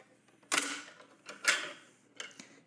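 Abonow 3006 electric treadmill being folded up, its deck collapsing after the release knobs are pulled: three separate mechanical clacks and rattling thumps, close and moderately loud, with short quiet gaps between them.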